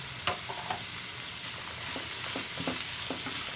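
Vegetables with carrot and salt being stirred in a pan for Maharashtrian vermicelli upma, a steady sizzle with scattered scraping clicks of the spoon against the pan, close and moderately loud, no talking.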